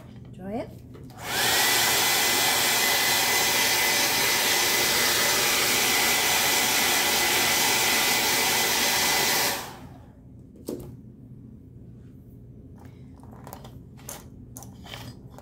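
A hair dryer runs steadily for about eight seconds at close range while drying a handmade witch-themed craft piece, then cuts off, leaving light tapping and handling noises.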